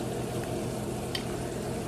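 Butter and vegetables cooking in a pan while stuffing is made, a soft steady sizzle and crackle heard close and alone, with a brief brighter spatter partway through.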